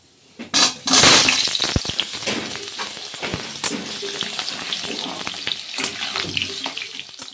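Chicken dropped into a hot pan for a red curry, starting with loud bursts of sizzling as it hits the oil, then a steady close crackle and hiss that settles, with a few clinks of utensils.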